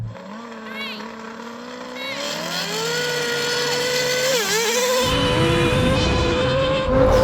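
Engines of a Red Bull RB7 Formula 1 car, a Lamborghini Huracan and a Nissan GT-R in a drag race in a game, with high revving whines rising in pitch as the cars accelerate and shift, loud and continuous under excited talk.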